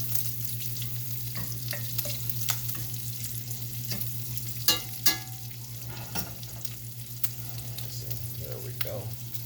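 Bacon and vegetables fry in a pan with a constant soft sizzle, punctuated by scattered crackles and pops and a few louder spatters, all over a steady low background hum.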